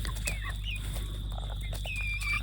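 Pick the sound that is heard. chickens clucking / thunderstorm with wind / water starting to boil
chickens clucking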